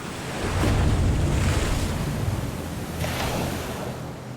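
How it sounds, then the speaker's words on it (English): Heavy ocean surf churns and crashes in a strong wind, a loud continuous roar with broad swells of spray and deep rumbling, and wind buffeting the microphone. "I just remember those waves, the sound of those waves."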